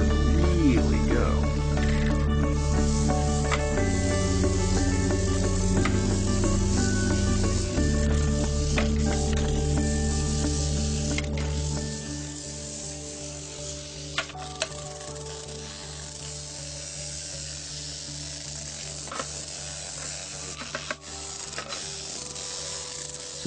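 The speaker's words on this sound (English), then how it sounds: "Okay, so you've got the battery hooked up, the motor's going" A small vibrating motor drives a battery-powered toothbrush BristleBot robot, giving a steady buzzing hum with tonal whine that shifts in pitch and drops lower partway through, alongside scattered rattles and clicks.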